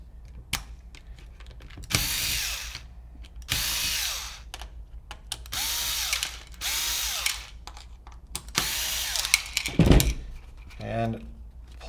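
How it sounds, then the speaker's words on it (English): A power drill or driver backing five screws out of a paintball hopper, an HK Army Epic Rotor speed feed, in repeated whirring bursts of a few seconds each with a ratcheting clutch and pauses between them, close and clear. "we're going to take the 5 screws out"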